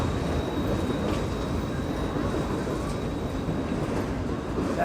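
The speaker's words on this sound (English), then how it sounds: "You can walk right beside the train when it's moving." Continuous heavy rumble of a moving train rolling past nearby at a harbor, broad and steady, with a faint high whine running through it.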